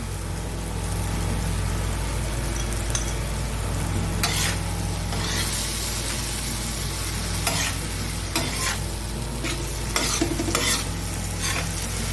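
A chili garlic paste is stirred into pav bhaji on a large griddle, a steady loud sizzle and frying hiss with scraping stirring strokes and occasional clanks throughout.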